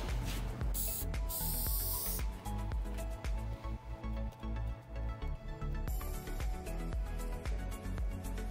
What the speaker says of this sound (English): let's get that thing painted so we actually avoid